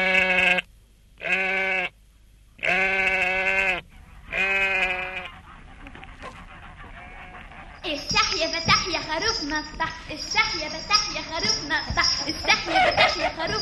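Several bleats from a sheep in an Egyptian Arabic radio drama series, sounding as distinct harmonic cries in the opening seconds, separated by brief gaps, followed by background music and voices.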